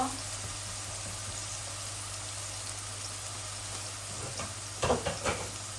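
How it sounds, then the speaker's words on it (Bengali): Two dried chillies fry in hot oil in a pan for Sylheti-style fried rice, giving a constant close sizzle. A few clattering stirring sounds come in near the end. "দুইটা শুকনা মরিচ দিছি এই ভাত ভাজির জন্য।"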